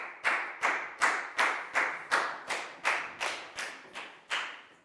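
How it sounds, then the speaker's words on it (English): Steady classroom clapping, about a dozen even claps in a regular rhythm, close and fairly loud, with no voices. "High five and a big round of applause for Annette,"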